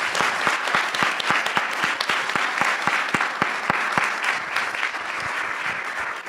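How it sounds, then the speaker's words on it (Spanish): An audience at a talk on Argentine wine applauds a speaker, with a full, even burst of clapping and distinct individual claps standing out near the front, sustained loud then easing slightly toward the end. "Señores, le damos un aplauso al Colo que vino."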